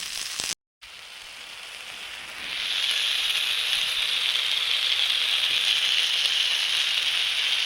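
Fish fries in a pan with a steady, bright sizzle that swells after a brief gap, settling into a continuous hissing crackle, close and fairly loud with no talk over it.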